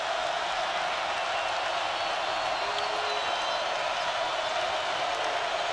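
A college basketball arena crowd during a Wisconsin at Virginia game roars in a continuous, dense wash of cheering and applause with no pauses.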